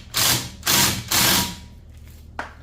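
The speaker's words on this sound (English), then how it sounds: "And then these need to be torqued down." A torque wrench tightens bolts on a Silverado brake rotor hub: three short, loud bursts of ratcheting, then a quieter pause and a single sharp click.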